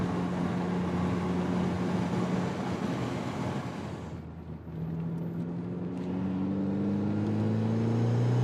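A big-turbo 1995 Mazda Miata M Edition engine drones under load on open road, its pitch climbing steadily as it accelerates, briefly easing off midway before pulling hard again, with wind rush around it.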